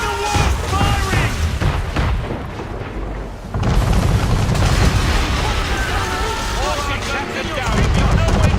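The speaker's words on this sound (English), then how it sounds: "Man of war firing!" Man-of-war cannons fire in a naval battle in Assassin's Creed 3, heavy booming blasts rolling under a dense, loud mix of shouting voices and battle noise.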